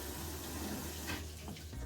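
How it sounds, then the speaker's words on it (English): A water hose rinses out the inside of a Prevost H3 bus holding tank in a wash bay. The spray rushes steadily and loudly at close range. "carefully turn on the water so it doesn't splash at us, and just hose out the inside of the tank"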